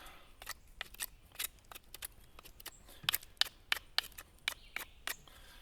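A knife blade shaves a very hard piece of wood in quick, repeated scraping strokes, crisp and close, each pass a short rasp in an uneven rhythm.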